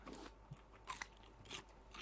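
A character eating food in the video game Raft makes a few faint, crisp bites and crunches in short bursts.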